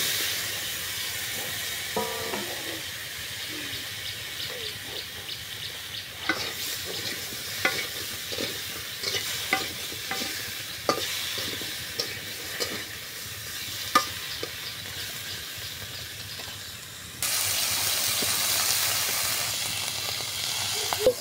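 Fish frying in a pan for a curry with tomato and beans, a continuous hissing sizzle with irregular clinks and scrapes of stirring, growing louder and brighter near the end.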